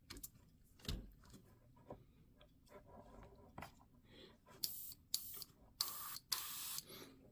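Mobius 0.3 premium airbrush at a Gundam model workbench, quiet handling clicks and taps followed by several short bursts of hissing air spray, each cut off cleanly, close by.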